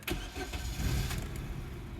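A warm Opel Z16XEP petrol engine cranks and starts. The car has a fault that shuts it down when warm. Its steady broadband rumble runs close and fairly loud for the whole stretch, with no talking.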